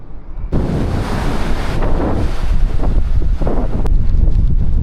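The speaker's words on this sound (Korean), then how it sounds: "바람이 좀 많이 붑니다" Strong wind blasting across a microphone on a coastal walking trail by the sea, a loud continuous roar with gusty surges and no talking.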